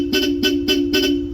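A Bosch Europa horn fitted to a Yamaha NMAX scooter blares in four quick rapid-fire honks, each a bright, buzzy two-tone blast repeating at a steady pulse, loud and close with a constant hum underneath.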